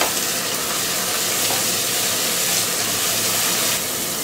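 Ginger paste and garlic paste fry in a pan for a spicy chicken dish, giving a steady, close, fairly loud sizzle that hisses without pause for the whole stretch.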